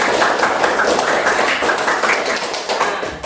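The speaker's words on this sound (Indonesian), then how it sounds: "semuanya tepuk tangan lagi buat semuanya" Students in a junior high social studies classroom clap together in dense, sustained applause lasting a few seconds, steady and fairly loud with no talk over it.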